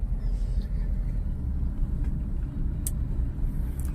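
Car pulling away in second gear as the clutch is released, a low, steady engine rumble from inside the cabin with faint road noise and a few light clicks, no talking.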